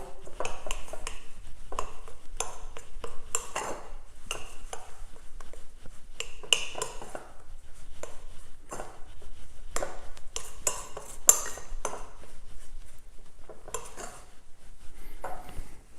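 Pizza dough of flour, butter and milk mixed in a bowl and rubbed round its sides: irregular close scraping and clinking of a utensil against the bowl, with no talking.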